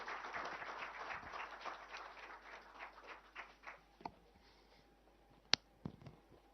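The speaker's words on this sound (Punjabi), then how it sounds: "ਜ਼ੋਰਦਾਰ ਤਾੜੀਆਂ ਦੇ ਨਾਲ ਮੈਡਮ ਗੁਰਪ੍ਰੀਤ ਕੌਰ ਜੀ" Applause from an audience at a student event, a faint, distant round of clapping that thins into a few scattered claps before fading out.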